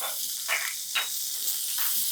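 Sliced onion and green chili hit a hot garlic tempering and hiss in short soft bursts, a faint spitting sizzle rising and fading in quick pulses.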